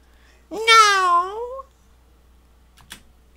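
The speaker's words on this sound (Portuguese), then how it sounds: "Do berro, do berro que o gato deu" A single loud, drawn-out cat meow lasting about a second, followed after a pause by a faint click.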